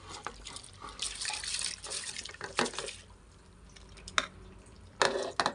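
Soaked rice is tipped into a pot of boiling water for chicken biryani, giving a few splashy pours and watery sloshes, with bubbling and stirring between bursts.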